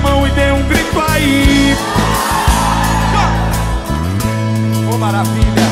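Congregation at a church service shouting and whooping together, a loud, dense crowd roar rising over music throughout.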